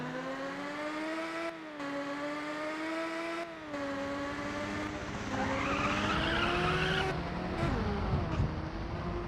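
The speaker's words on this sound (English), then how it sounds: "And the car didn't want to drift that time." Race car drifting through tight corners in the video game Ridge Racer Type 4, a steady engine drone with a long, loud tire squeal rising mid-way, no talking.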